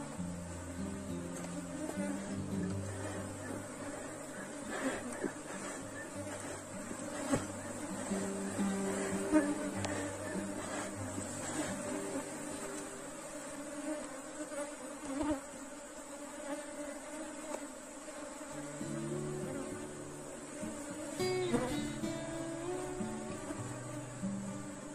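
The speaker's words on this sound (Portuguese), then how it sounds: "Esse enxame aqui, ó, como ele tá um pouco mais agressivo" Aggressive honeybee swarm buzzing around hives, a dense continuous drone of many insects close by with occasional louder passes and faint handling noises.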